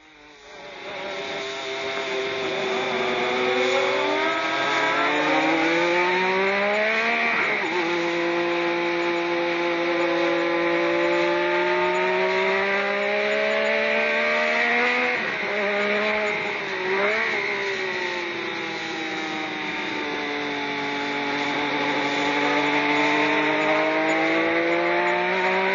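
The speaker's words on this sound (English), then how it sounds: "Now we ride with Nigel Mansell in his Lotus" Nigel Mansell's Lotus racing car screams around Brands Hatch, its engine revving loud and close with rising and falling pitch sweeps through gear changes across the run.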